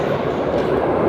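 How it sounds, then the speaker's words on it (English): Subway train at Kelvinbridge station on the Glasgow SPT Subway, a steady close rumble of rolling wagons filling the whole second with no let-up and no talk. "You probably quite rightly identify this as one of the subway stations"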